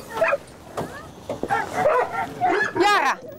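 Several dogs bark and yip in short bursts at a dog-walking spot in Delft, with a voice speaking over and between the barks at close range.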